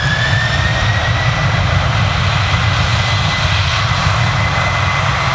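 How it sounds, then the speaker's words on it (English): Airliner engines roaring at full takeoff throttle at Manchester Airport, a loud, steady broadband jet roar with a rising whine, close and continuous throughout with no talking. "And here it's engine starting now, going full throttle."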